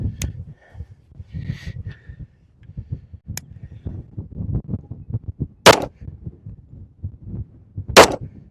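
Colt Gold Cup National Match 1911 pistol fired at 7 yards at a range, two sharp loud shots a few seconds apart among softer handling clatter and bumps, no talking.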